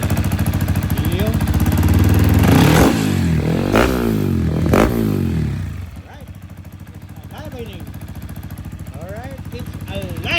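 A rebuilt Sniper 230 motorcycle engine, its exhaust pipe missing a gasket, idling and revving loudly up close with repeated throttle blips and rattling clatter, while voices talk over it.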